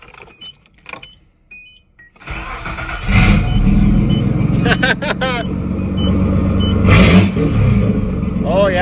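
A Nissan converted into a tractor starts up after a few quiet clicks and settles into a loud, rough, chugging idle with a couple of revs, someone speaking briefly over it.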